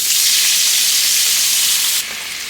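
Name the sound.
deglazing frying pan with white wine, sizzling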